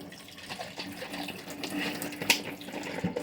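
Tap water runs steadily into a sink while a reusable bottle is rinsed clean with a rag, a continuous close splashing stream with a few small clinks and knocks.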